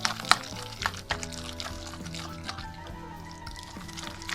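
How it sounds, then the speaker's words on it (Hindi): Pakora batter being stirred and mixed by hand in a bowl, wet sloshing and slapping with a few sharp clinks near the start, then softer continuous squelching. "तो अब ये पकौड़ों का जो बैटर है, इसको ये देखें इस तरह फिर अच्छे से मिक्स करना है।"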